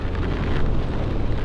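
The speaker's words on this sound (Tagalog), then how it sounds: "lakas ng ulan tsaka hangin." Heavy rain and strong wind roar during a motorcycle taxi ride on a wet road near Las Piñas, a dense, continuous, close wash of noise with no talking.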